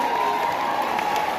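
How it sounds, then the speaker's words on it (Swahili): Applause from an audience at a Kikuyu-language gathering, a steady wash of clapping mixed with crowd noise and some cheering, fairly loud and continuous throughout. "tumpigie makofi mazuri"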